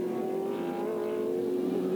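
Race cars circle Manfield circuit in an NZGT race, among them a Ford Capri, a Honda Prelude, Porsches and V8-powered Starlets, with a loud sustained engine drone that holds a steady pitch and slowly swells.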